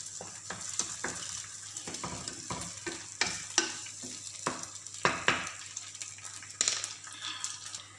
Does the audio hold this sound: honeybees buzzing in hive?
no